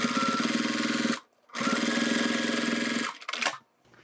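A sewing machine top stitches a zipper wallet in two fast, steady runs of rapid needle chatter, separated by a short pause and followed by a brief final burst.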